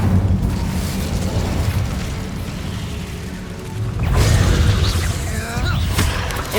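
An Incendio fire spell blast in Hogwarts Legacy, a heavy whooshing roar of flame with mechanical creaks, swelling loudly midway with crackling fiery bursts over game ambience.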